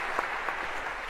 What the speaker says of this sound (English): perhaps a round of applause